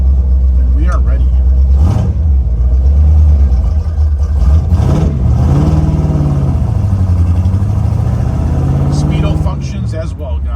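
A 1964 Corvette Stingray with a 327/300 engine and four-speed Hurst shifter drives along, its loud, close V8 rumbling steadily with several revs rising and falling between gear changes, while someone talks over it.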